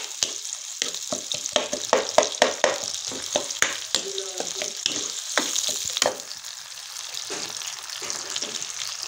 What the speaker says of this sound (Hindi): प्याज़ों को हम फ्राई हल्का ब्राउन करेंगे।